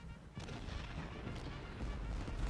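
Cannon and musket fire rumble from a Gettysburg battle in the Civil War strategy game Ultimate General: Gettysburg as a continuous, fairly faint roar of overlapping booms and crackling shots.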